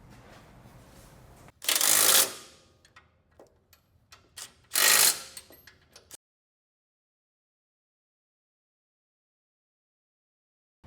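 Bolts on the frame mounts of a 2023+ Ford F250 front bumper are loosened with a power tool in two loud, close, rattling bursts about a second each. Small metallic clicks come between the bursts, then silence.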